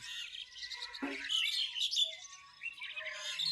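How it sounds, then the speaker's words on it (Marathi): Many small birds chirp and twitter continuously at a village bus stand in Shembal Pimpri, a dense, busy chorus with no voices. "हे चिवचिवाट हे बस स्टॉप हे पक्षी"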